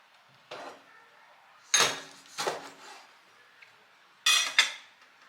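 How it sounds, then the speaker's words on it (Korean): Knife strikes on a board while tomatoes are chopped for Balinese sambal: a few sharp, separate clatters and knocks with quiet gaps between them, close and bright, with no talking. "자, 토마토도 다져볼게요"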